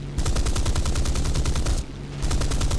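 Mustang Mk Ia fighter's guns firing in a historical air-combat game: two rapid, loud bursts of machine-gun fire with a short pause between them, no voices.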